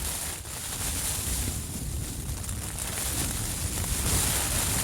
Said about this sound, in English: Dead windy as well.